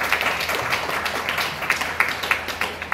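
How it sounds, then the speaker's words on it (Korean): Audience applause welcomes a speaker at a Daedeok science and technology forum, a dense, even wash of clapping across the room with a few sharper claps standing out toward the end. "박수로 환영해 주시고요"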